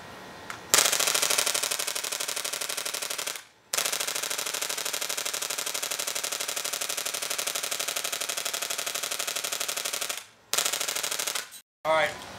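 A Daytona airsoft gun fires BBs in long rapid automatic bursts, emptying a drum magazine close by, with short pauses and a final stuttering burst.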